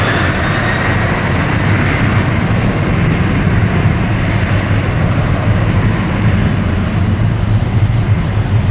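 An Austrian airliner rolls for takeoff on runway 6 left at Toronto Pearson, its jet engines making a loud, steady roar with a deep rumble and a broad hiss that holds level throughout, with no voices.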